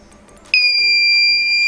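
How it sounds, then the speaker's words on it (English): A smart helmet's object-detection sensor buzzer, loud and piercing, beeps once and holds a steady high tone after a short quiet lead-in. "a buzzer will also beep."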